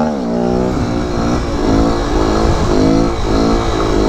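Motorcycle engine revving loudly through second gear during a street wheelie in Springfield, Missouri, with repeated rising and falling surges of throttle, close and continuous.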